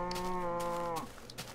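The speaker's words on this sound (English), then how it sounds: "Stop mooing at me, you mooer." A single cow moos in the Minecraft video game, one clear, close, drawn-out low call lasting about a second, with no talk over it.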